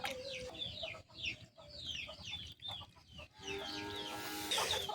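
Several free-range domestic chickens on a small farm cluck and chatter nearby in repeated short calls, with a brief pause partway through before the flock resumes.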